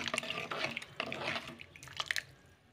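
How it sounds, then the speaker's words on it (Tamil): Salted water heats to a boil in a cooking pot for a rice side dish, giving irregular close bubbling and dripping liquid sounds at a low level with no talking. "தண்ணி நல்லா கொதிக்கட்டும்."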